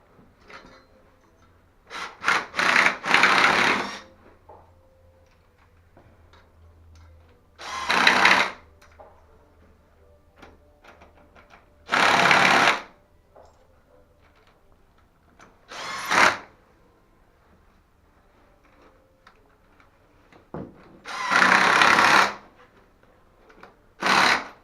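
Two-inch screws driven by a power drill to anchor a toilet base flange to the floor, sounding as five separate loud whirring bursts of a few seconds each with quiet pauses between them.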